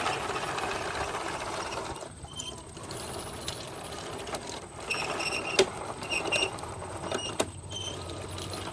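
A 1/6 scale Dragon Sherman RC tank drives over rough terrain, its tracks and gearing giving quiet, uneven creaking and mechanical whirring with scattered clicks and brief dips throughout.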